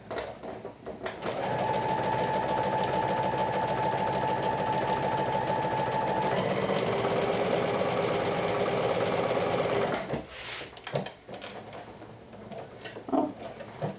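A sewing machine runs in one long continuous stitching burst along flannel side seams, a steady close whir with a pitch shift partway through, then stops and is followed by a few handling clicks and rustles.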